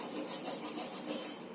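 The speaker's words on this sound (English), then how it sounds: "First, I am going to fill with the clay." Clay soil being poured or scooped into a container, a steady granular rubbing and scraping rasp that runs continuously at close range with no talking.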